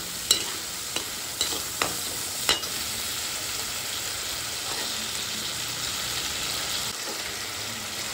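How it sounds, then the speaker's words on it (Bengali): A paste of tomato, onion and ginger frying with spices in a pan, a steady close hiss of sizzling oil with a few sharp spatula scrapes and taps early on. "দিয়ে ভালোভাবে মশলাটা কষিয়ে নিচ্ছি"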